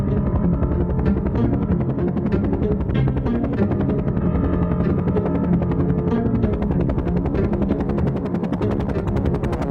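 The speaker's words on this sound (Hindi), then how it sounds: "हेलीकॉप्टर समंदर के ऊपर से जा रहा था।" A cartoon helicopter flies over the sea, its rotor whirring in a loud, steady, continuous drone that fills the whole stretch with no talking.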